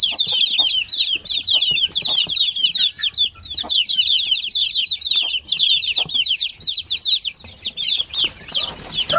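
A brood of Basilan and Zampen native chicks peeps constantly at close range, a thick, high-pitched chorus of rapid overlapping chirps.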